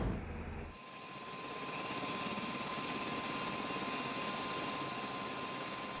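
A Black Hawk air ambulance helicopter at Bagram Airfield in Afghanistan, its rotor and turbine building into a steady, close drone after a brief quieter start, with a thin high whine running through the whole stretch.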